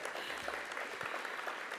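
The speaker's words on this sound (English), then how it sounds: "And 80 years of Concord Hospital. A round of applause for that as well." A hall audience at a Sydney research symposium applauds Concord Hospital's 80 years, the soft, even clapping continuing steadily at a moderate distance throughout.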